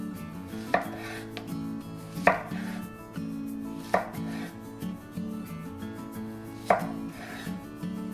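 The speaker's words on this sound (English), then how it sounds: "Then cut them in half. Cut them into quarters." A knife chops zucchini into halves and quarters on a board for Korean doenjang jjigae, giving four sharp, widely spaced cuts over a steady tonal music bed, with no voices.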